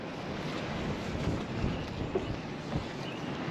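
Cold, windy day beside a moored sailboat: steady, broadband wind rush buffeting the microphone, moderately faint, with gentle water and boat noise beneath and no talking.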